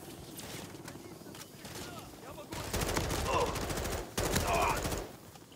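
Rapid automatic gunfire is aimed at a helicopter in Call of Duty: Modern Warfare III, dense bursts of rattling shots growing louder, with brief pauses and distant voices.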